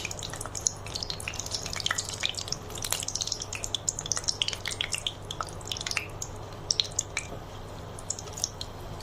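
Dried red chilies frying in hot mustard oil, a close, fine crackle of scattered pops and spits over a low steady background hum.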